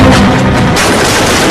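Loud gunfire booms in a film action scene, a heavy blast-like burst filling the short moment with rumbling noise.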